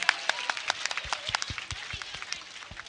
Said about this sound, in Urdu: ان کے لیے زوردار تالیاں ضرور بجائیے آپ لوگ